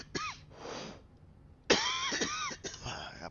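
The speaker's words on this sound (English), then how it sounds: "I apologize for my cough." Two harsh coughing fits from a sinus allergy infection close to the microphone, the second longer with several hacking bursts, separated by a quiet pause.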